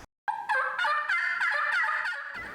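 A wild turkey gobbles loudly and close, a rapid rattling burst of throaty notes after a brief silence, rising then trailing off.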